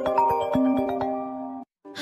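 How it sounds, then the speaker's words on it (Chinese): An incoming-call ringtone on a phone plays a bright, repeating chiming melody up close for a couple of seconds, stops briefly, then starts again. "来电显示正是婆婆刘桂芳的号码"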